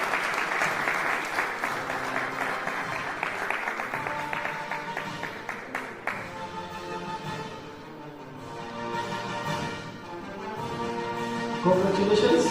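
Audience applause at a university's inaugural graduation ceremony in a large hall, sustained clapping from a crowd that swells, dips briefly, then rises again as music or announcements sound faintly underneath.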